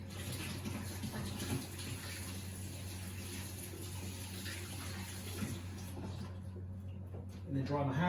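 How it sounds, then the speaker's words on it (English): A running kitchen tap pours steadily while hands are washed underneath for a long stretch, close and continuous, before the flow cuts off and a brief clatter follows. "So 25 seconds of hand washing."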